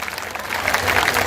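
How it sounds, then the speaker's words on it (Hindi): Crowd clapping at an outdoor political rally in Haryana, a steady wash of applause that swells slightly toward the end, close and fairly loud with no voices on top. "जोरदार तालियां बजाओ"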